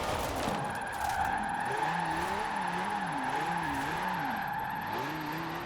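Car drifting and skidding in the racing game Forza Horizon 4, with a continuous engine roar and wavering, sliding tire squeal as the rear steps out, steady and loud throughout with no talk.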